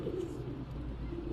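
Pigeons coo in soft low continuous murmurs close by, with a steady background hum and no speech.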